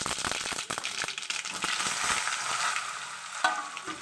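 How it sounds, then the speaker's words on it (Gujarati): Hot oil crackles and spits as sesame seeds and mustard seeds pop in dense, rapid bursts, close and steady for the whole stretch, with no voices. "તલ નાખીને ઢોકળા વઘાર દેશું ગેસ બંધ કરી દેશું તલ તરત જ ફૂટી જાય"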